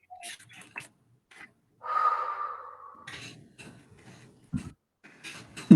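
A deep breath drawn in and blown out during a relaxation session, a soft breathy rush lasting about a second, close to the microphone, set among brief quiet rustles and small noises.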